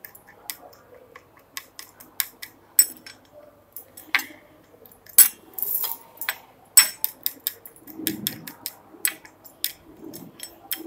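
A spoon mixing melted homemade butter in a dish, a scattered run of sharp clicks and taps against the container with brief soft scraping, close and fairly quiet.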